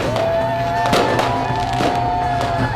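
Firecrackers burst outside in loud, sharp cracks over a busy wash of crowd noise and tonal background sound, close and continuous.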